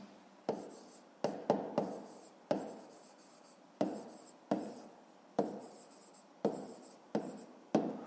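Pen strokes writing numbers on paper while working a fifth-grade arithmetic exercise, a series of sharp, close scratchy bursts, about a dozen, each starting crisp and trailing off, with no talking.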